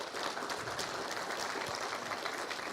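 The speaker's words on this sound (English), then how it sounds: "Let's give another round of applause for the Blue Jay Singers." Applause for the Blue Jay Singers at a literacy awards event, a steady even patter of clapping from an audience, faint and distant throughout the short stretch.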